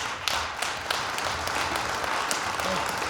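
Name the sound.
applause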